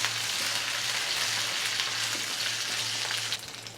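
Curry leaves and slit green chilies sizzling in hot oil in a pan, a loud, steady crackling fry close up that runs continuously and drops slightly near the end.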